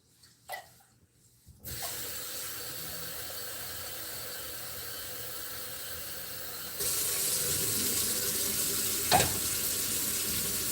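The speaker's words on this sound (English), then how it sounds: "So we're going to fill this with water." Tap water runs into a pot in a kitchen with a steady hiss after a few soft clatters. The flow grows brighter and louder partway through, and a single brief knock comes near the end.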